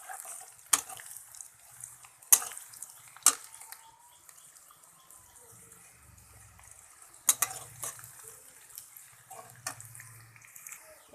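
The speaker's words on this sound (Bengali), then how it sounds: "পেঁয়াজটা নেড়ে চেড়ে ভালো করে লাল করে নেব।" Chopped onions fry in oil in a pan, giving a soft, steady sizzle. A spoon scrapes and clinks against the pan at irregular intervals as the onions are stirred close by.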